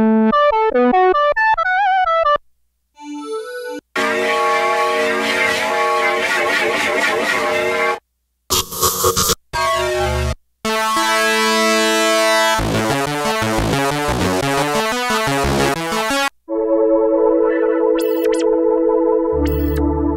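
A Roland SH-4D synthesizer plays a wavetable patch, loud and continuous, with shifting buzzy tones, sweeping pitch glides, abrupt cuts and gaps, distorted harmonic textures and a high rising whine near the end.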